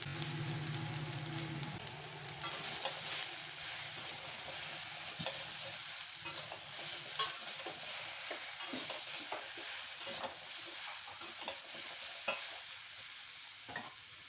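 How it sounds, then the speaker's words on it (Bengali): An egg frying in a pan gives a steady, quiet sizzle with bursts of crackle and occasional stirring scrapes, heard alone without talk. "তিন মিনিট ভেজে নিয়েছি"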